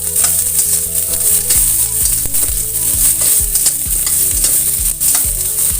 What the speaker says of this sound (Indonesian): Lalu kemudian masukkan bawang bombay, jahe, dan bawang putihnya. Tumis sebentar.